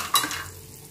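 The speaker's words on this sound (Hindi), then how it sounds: "रवे को हम भून लेते हैं।" Semolina (rava) toasting in a spoonful of ghee in a pan gives a soft, faint sizzle, opening with a brief scrape of a spoon stirring against the pan.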